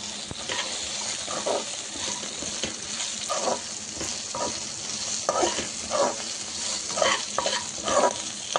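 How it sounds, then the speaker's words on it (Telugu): Chilies, onion and curry leaves sizzle steadily in a pan while a utensil scrapes and stirs in repeated strokes, close up and continuous. "బాగా ఫ్రై చేసేసుకోవాలండి."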